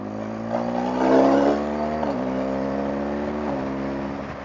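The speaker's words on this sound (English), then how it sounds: "Oh, I love the sound of this Republic exhaust. It's got such a nice growl to it." A car fitted with a Republic aftermarket exhaust accelerates with a deep, steady growl that rises in pitch, then settles into an even drone, heard up close from inside the car with no talking.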